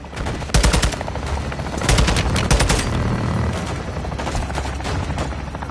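Rapid bursts of automatic gunfire from a helicopter gun run in the Modern Warfare 2 campaign, loud and close, with dense rattling volleys and a low rotor-like rumble running steadily beneath.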